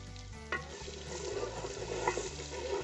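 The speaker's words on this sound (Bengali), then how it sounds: "একটুখানি 2-3 মিনিট আমরা নাড়াচাড়া করে নেব" Coriander powder and whole cumin stirred in hot oil in a pan for a moong dal khichdi, a steady low sizzle with scraping stir strokes, a sharper clatter near the start, close and continuous without talk.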